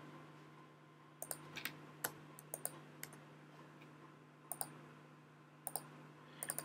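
Sparse bursts of computer keyboard typing while entering network switch configuration, with clusters of crisp key clicks separated by pauses, close and clear over a faint steady hum, no talking.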